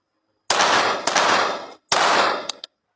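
Shots from a German-made recreational pistol on a shooting range, three sharp reports with the first two about a second apart, each followed by a lingering decay and ring, then a short quick crack at the end.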